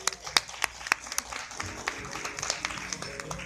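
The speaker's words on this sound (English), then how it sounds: "A round of applause," Applause at an environment summit press launch: a modest crowd claps in scattered, uneven bursts, loudest at the start and then thinning into lighter, sporadic claps.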